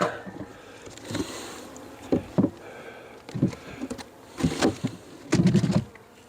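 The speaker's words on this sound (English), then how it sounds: "Lots and lots of bees." Honey bees buzzing in an opened horizontal hive during a Varroa treatment check, a low hum broken by sharp knocks and handling noises as hive parts are moved.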